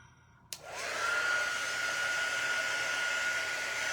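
A hair dryer is switched on with a click and spins up into a steady, close whooshing roar, blowing air to dry a fabric pumpkin.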